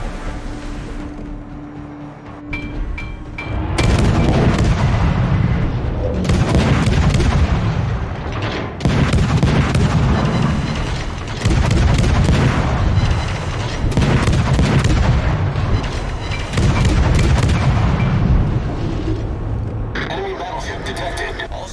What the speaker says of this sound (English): All stations, reporting the position of a strategic target.